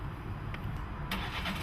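Car engine restarting under a Stop and Start system: a brief cranking burst that catches into a low idle rumble, close and short.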